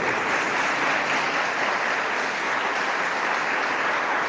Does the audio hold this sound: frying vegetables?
no